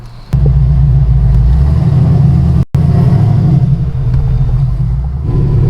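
ZL1 Camaro V8 running on E85 fuel while cruising under normal driving, a steady deep rumble heard from inside the car with a brief cut partway through, no talking.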